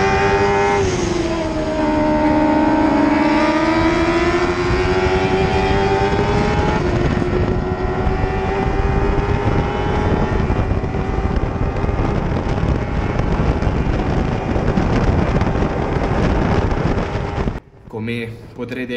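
A race car engine running poorly and held in fifth gear on the straight, a loud sustained drone whose pitch climbs and sags, with wind rush throughout and a brief cut near the end.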